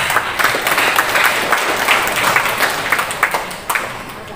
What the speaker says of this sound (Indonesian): Sekali lagi aplaus.